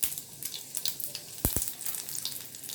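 Half a teaspoon each of mustard seeds and urad dal with one red chili tempering in hot oil, a steady crackling sizzle with quick sputtering pops and one sharp double crack near the middle.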